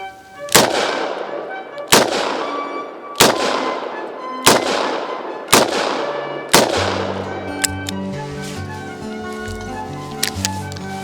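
Five loud, evenly spaced gunshots from a home defense gun, each with a sharp crack and a ringing decay, followed by lighter metallic clinks and rattles as the shooting stops.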